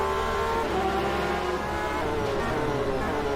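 Porsche race cars battling closely in the racing game rFactor 2 at Kyalami, engines droning in a steady dense roar with slight pitch shifts, loud and continuous, no voices.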